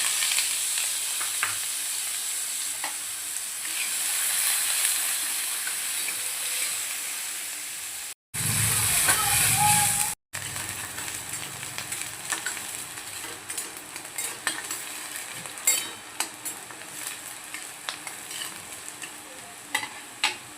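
Chopped onion frying and being stirred in a pan for bitter gourd chutney, a steady close sizzle with scraping spoon strokes throughout, briefly cut off near the middle.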